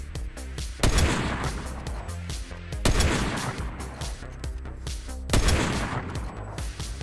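A sniper rifle fires in a video game. Three loud, booming shots come several seconds apart, and each one rings out into a long, fading echo.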